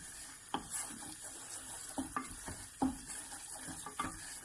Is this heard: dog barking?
no